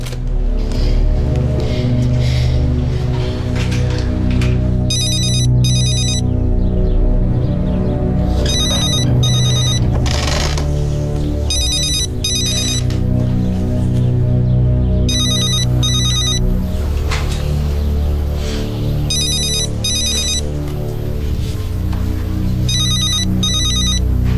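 Telephone rings out in repeated bursts over a steady music bed in a dubbed drama scene, the ring pattern recurring several times, loud and close throughout.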